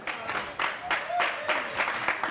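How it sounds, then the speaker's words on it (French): A small crowd at a French-language sports debrief show claps for a couple of seconds, uneven bursts of applause at moderate volume with some voices underneath. "Applaudissez pour Mantolé."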